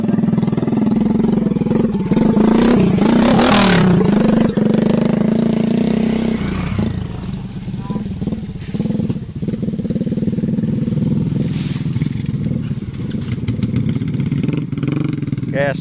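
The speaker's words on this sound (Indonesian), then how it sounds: "walah, motor anyar kae lho." A new motorcycle engine runs close by, revving and then settling to a rough idle, with people talking over it throughout.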